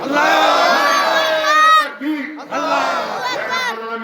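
A crowd at a religious gathering roars a takbir chant back in response to a call, two loud massed shouts of many voices with a short pause between them.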